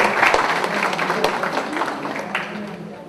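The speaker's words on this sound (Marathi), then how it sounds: "जोरदार टाळ्या वाजत राहू द्या" Live audience applause at a Marathi TV quiz show, a steady wash of many hands clapping with sharp individual claps that holds evenly throughout, with a voice faintly present underneath.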